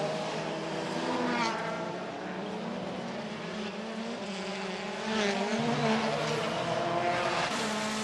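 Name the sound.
touring race car onboard in wet WTCC race, Marrakech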